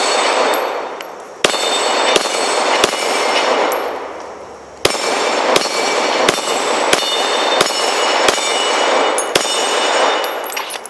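Gunshots from a new gun ring out against a metal can target, sharp cracks each followed by a bright ringing clang, about a dozen hits in irregular succession with brief pauses between.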